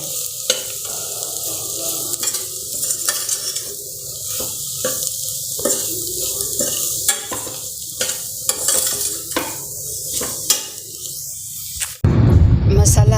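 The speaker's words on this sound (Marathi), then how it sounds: "याला या मसाल्याला एक दोन मिनिट परतून घेऊयात" Masala spices with curry leaves stir-fried in a pan, a continuous bright sizzle with a spoon scraping and tapping the pan, a voice speaking over it, and a sudden shift near the end to a rougher, louder rush.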